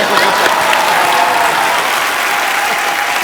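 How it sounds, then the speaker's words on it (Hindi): A studio audience at a televised Indian comedy talk show bursts into loud, sustained applause, a dense wash of clapping that holds steady for a few seconds without any speech over it. "इस बात के लिए जोरदार तालियां।"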